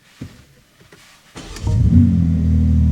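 A BMW M3/M4 engine starts and revs up into a deep, loud exhaust rumble with the exhaust valves open, holding steady, following a few clicks and thumps.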